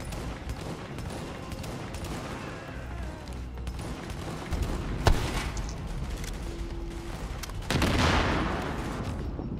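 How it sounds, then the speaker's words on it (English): Grenade explosions and gunfire in the video game The Division, a dense, continuous wash of shooting with one sharp crack in the middle and a heavier blast surge near the end. "Watch those grenades to the left."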